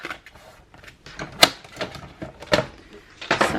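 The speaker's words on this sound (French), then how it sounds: "Je marque les plis." Paper being creased into folds by hand while assembling a decorated December Daily album, giving a string of short crisp rustles and sharp snaps at close range with no talk.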